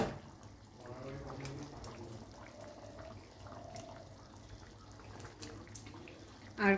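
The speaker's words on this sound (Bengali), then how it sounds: "ঝোল কিন্তু খুব সুন্দরভাবে টকবক করে ফুটে উঠেছে" Prawn curry gravy for chingri malai curry, made without coconut milk, boils in a pan with a soft, steady stream of bubbling and gurgling, fairly quiet throughout, and a brief knock near the end.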